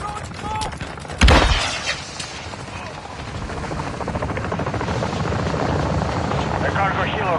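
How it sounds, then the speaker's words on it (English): A cargo helicopter sweeps in during Call of Duty Modern Warfare, its rotor thrum building steadily after a sharp impact and crash, while voices and scattered gunfire sound over the rotor noise. "Cargo helo has entered the airspace"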